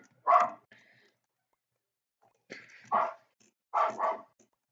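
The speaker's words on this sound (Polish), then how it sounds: "Tylko, że mój pies zaczął szczekać." A dog barks three times in short bursts, with long silent gaps between them, fairly close and clear, in a quiet indoor room.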